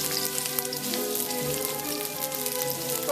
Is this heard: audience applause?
no